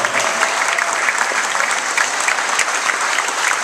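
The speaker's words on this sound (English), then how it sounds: "You guys can give her a round of applause as well." Audience applause at a film premiere introduction, dense steady clapping from a crowd filling the room, sustained loud throughout.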